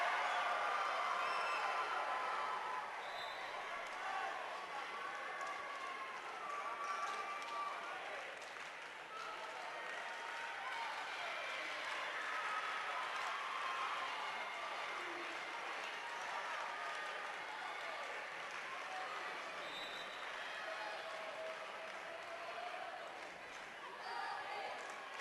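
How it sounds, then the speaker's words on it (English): Fans cheer and applaud steadily through a gym during a Class 1A Kansas state girls volleyball semifinal, Olpe Eagles against Hoxie. The crowd noise is loud, sustained and echoing, with a public-address voice talking over it. "Olpe Eagle cheer"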